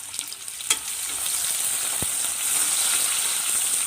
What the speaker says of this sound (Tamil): வெங்காயம் போட்டு வதக்கலாங்க